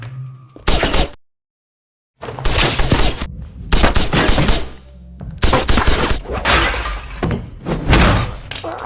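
Several loud gunshot-like bursts crack in quick succession after a brief silence, dense and close, with chaotic impacts and clatter between them.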